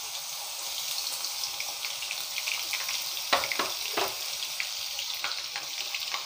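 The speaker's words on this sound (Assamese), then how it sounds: "এতিয়া আমি ইয়াতে প্ৰথমে আদা ৰচুনৰ পেষ্ট আৰু জলকীয়া দিম" Ginger-garlic paste and chillies hit hot oil in a pan and sizzle in a steady, close crackle, with a few sharper pops partway through and no talking.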